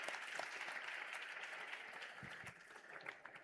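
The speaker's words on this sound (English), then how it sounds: "A big round of applause for all the receivers of the certificates." Applause from a convocation audience for graduates receiving PGDM certificates at a Great Lakes Institute of Management ceremony, a steady, fairly faint wash of clapping that carries on without a break.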